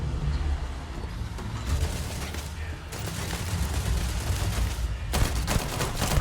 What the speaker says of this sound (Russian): По приборам стреляю